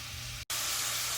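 Carrots cook in a hot pan with a steady, dense sizzle and hiss of steam that breaks for a split second before resuming just as loud, with no one speaking.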